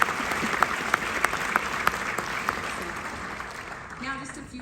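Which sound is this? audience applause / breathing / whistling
audience applause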